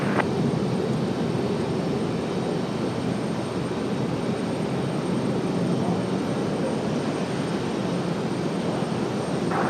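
An Air France airliner near the end of the runway at Raleigh-Durham airport gives off a steady, fairly loud engine roar that holds evenly throughout.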